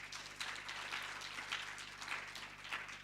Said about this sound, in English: So a round of applause to our supervisors for preparing you well.